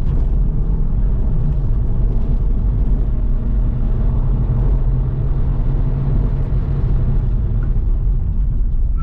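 A rare Cavalier Diplomat car is driven hard through corners, its engine a loud, steady rumbling drone with road roar heard close and continuous from inside.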